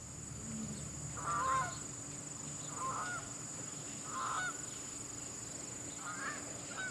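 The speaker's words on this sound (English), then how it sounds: "Those are all residential geese" Resident geese honking near a pond, four separate short honking calls spaced a second or so apart at moderate distance over a steady outdoor background hiss.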